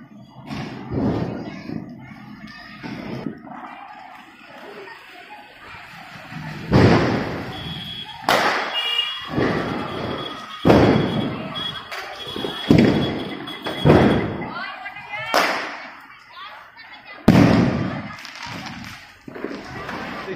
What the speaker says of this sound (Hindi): देखिए दोस्तों कितनी आवाज़ें आ रही पटाखों की